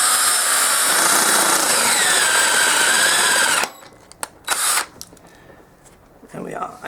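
A power drill boring out a broken bolt on a pit bike whines loudly and steadily for several seconds, then stops, followed by faint clicks and short bursts of handling noise.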